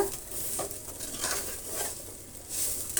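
Grated coconut being stirred into a frying carrot palya, with soft scraping strokes and a light, steady sizzle close by, the stirring coming in gentle waves.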